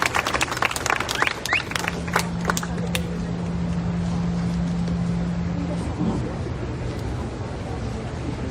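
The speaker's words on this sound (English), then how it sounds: "Give yourselves a huge round of applause." An audience claps in a burst of scattered, fairly close applause that thins out after a few seconds, leaving a steady hum and room murmur with some voices.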